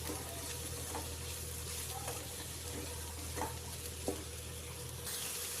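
Mushrooms for fried rice sizzle in a pan as they are stirred, a steady frying hiss broken by a few soft utensil scrapes and clicks, close and moderate in level.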